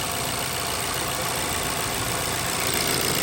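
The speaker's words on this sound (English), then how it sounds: "the engine sounds more quiet compared to when the old valve was" Vauxhall 1.6 SIDI A16XHT engine idling after a PCV valve replacement, a steady even hum with a faint high whine on top, close and continuous with no breaks.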